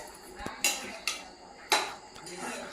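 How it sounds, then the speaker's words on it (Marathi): A few sharp metallic clanks and knocks of a pressure cooker being set down and shifted on a gas stove, spaced irregularly, close by with no talking. "गॅस ऑन झालेला आहे, कुकर ठेवलेला आहे."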